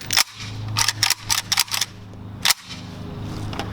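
AK rifle being racked repeatedly to eject rounds: a series of sharp metallic clacks, loud and close, in an irregular burst of about eight, with no talking.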